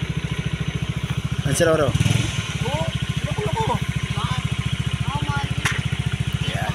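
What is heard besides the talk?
motorcycle engine idling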